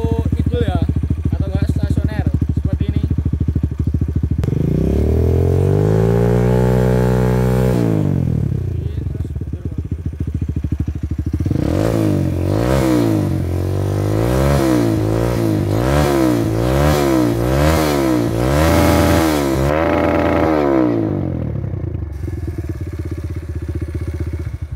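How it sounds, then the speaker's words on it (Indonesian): Motorcycle with a GP7 Power Core 1 Predator CNC exhaust is revved hard up close, with a long rise and fall of engine pitch followed by a run of quick repeated throttle blips over a constant loud idle, no talking. "jadi itu tadi ya suaranya knalpot GP7 yang Predator CNC Power Core 1"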